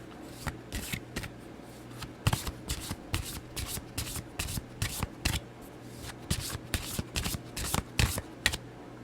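A deck of cards is riffled and shuffled repeatedly up close, with crisp bursts of flicking and snapping in an uneven rhythm.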